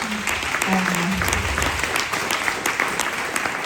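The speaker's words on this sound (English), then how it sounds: "yes, you're actually clapping" A conference audience at a corporate summit claps, dense continuous applause filling the hall for a few seconds with a voice faintly audible underneath.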